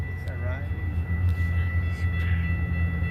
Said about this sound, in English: Milwaukee North train number 2607 to Fox Lake is now arriving.